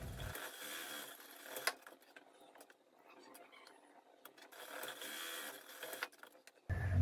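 Sewing machine running a 1 cm side seam on a folded fabric rectangle, a steady mechanical whir in two bursts separated by a quieter pause, with a louder thump at the end.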